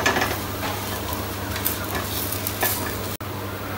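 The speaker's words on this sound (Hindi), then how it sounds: "ये देखिए दोनों तरफ से अच्छे से हम घी लगाएंगे और दोनों साइड से इसे अच्छे से करेंगे" Cauliflower paratha frying in ghee on a hot pan over high gas, giving a steady close sizzle with light scraping and stirring sounds and a single sharp click near the end, without talk.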